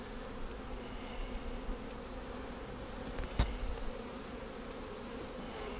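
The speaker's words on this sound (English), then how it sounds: "The bees are bringing in pollen." Honeybees from a package hive buzz around an opened box on a mild day, a steady close drone of many insects with a few louder passes near the microphone and a brief sharp tap.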